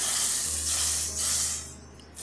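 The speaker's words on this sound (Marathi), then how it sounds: "आता आपण गरम गरम कढीमध्ये ही तुपाची फोडणी देऊ." Hot ghee tempering is poured into simmering Gujarati kadhi, giving a loud, close, hissing sizzle that fades away after a couple of seconds.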